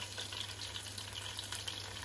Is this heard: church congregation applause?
no